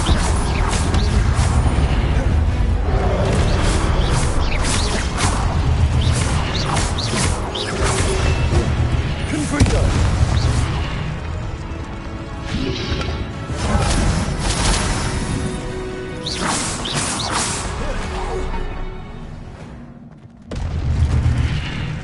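Repeated booming blasts and crashing impacts from a Confringo fire spell in the Hogwarts Legacy video game, loud and dense over a sustained stretch with whooshes between, fading briefly near the end.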